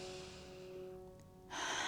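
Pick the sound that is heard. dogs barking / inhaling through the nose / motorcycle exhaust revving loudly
inhaling through the nose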